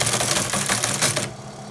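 A Teletype Model 15 teleprinter, used as a console for an Altair 8800, hammers out characters in a fast, dense mechanical clatter that runs loud and close for over a second before stopping abruptly.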